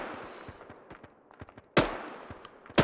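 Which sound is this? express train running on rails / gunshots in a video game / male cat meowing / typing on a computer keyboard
gunshots in a video game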